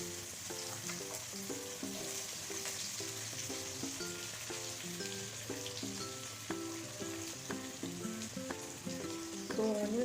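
Onions sizzling as they fry in a hot pan for vegetable rice, a soft continuous crackle and hiss running steadily under clinks and tapping of utensils.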